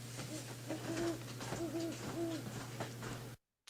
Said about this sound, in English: Her hoot, incidentally, was very distinctive because the second to the last part of the hoot had 2 notes